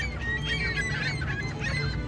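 Geese honk over and over in a Walmart parking lot, loud and close, with dense overlapping calls and a steady rumble of outdoor background noise.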